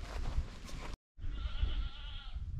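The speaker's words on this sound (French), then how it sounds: "il y a des petites chèvres là" Small goats bleat outdoors near an aircraft wreck, a drawn-out, wavering cry after a short gap, heard over steady rumbling wind noise.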